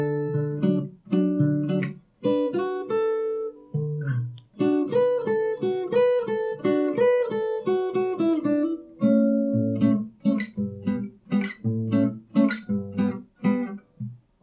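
Solo fingerstyle acoustic guitar plays the verse melody of a song from Barfi, plucked notes ringing clearly in a steady, lilting phrase over bass notes with brief pauses between lines, no voice over it.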